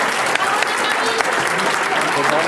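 Audience applause at an evening eloquence event in a French venue, a dense steady clapping crowd filling the room for about two and a half seconds, with a few sharper claps standing out.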